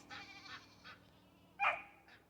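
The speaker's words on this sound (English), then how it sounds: "Hold on, I need to yell at the dog." A farm dog gives a few short yelps and barks at a moderate distance, an uneven run of brief calls with one louder bark near the end, on a homestead with goats nearby.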